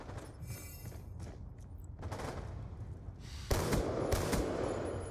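Gunfire in Call of Duty: Black Ops II during a Gun Game match, a busy spread of sharp cracks and booms with a louder burst of shots near the end, without talk.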